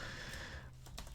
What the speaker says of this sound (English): I'm not typing in that right at all.